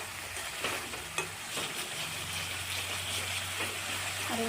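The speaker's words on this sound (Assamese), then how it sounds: "কণী আৰু মছলা এনেদৰে ভালদৰে মিক্স কৰি দি আছোঁ।" Eggs frying with masala in a pan for coconut egg curry are stirred steadily, with a constant soft sizzle and occasional scrapes and taps of the spatula close by.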